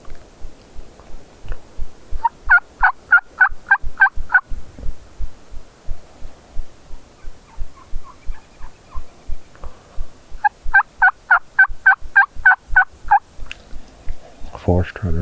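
Wild turkeys on public land, strutting toms and jakes, let out two loud rattling bursts of gobbling, one early and one late, over a steady run of low rhythmic thumps.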